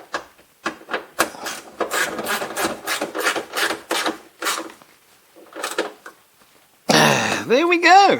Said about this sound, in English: So I might have to trim that a little bit there.